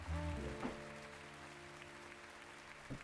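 Brief burst of clapping and cheering, fairly faint and distant, fading within about a second behind a lingering tonal hum, with scattered claps afterward.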